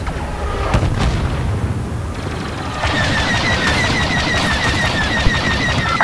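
Starfighter blaster fire in Star Wars Battlefront 2 during a space dogfight near a station: continuous rapid laser bursts over roaring engines and explosions, loud and dense, getting busier partway through.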